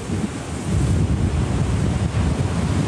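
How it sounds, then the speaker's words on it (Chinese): Typhoon swell waves crash against breakwater tetrapods at a seawall, a continuous loud roar of surf and spray with heavy wind buffeting, no voices. "长浪一波接着一波拍打消波块，激起浪花，声势惊人。"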